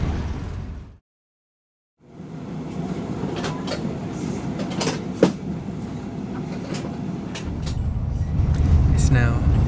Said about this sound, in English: I love travelling by train